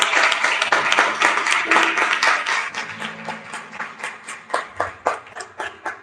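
A church congregation applauds together, a dense wash of clapping that thins into scattered, distinct claps toward the end.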